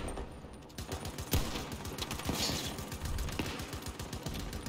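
Rapid video-game gunfire crackles in a dense, continuous burst of shots, a sustained battlefield volley with sharp individual cracks standing out, fairly loud and without any talking.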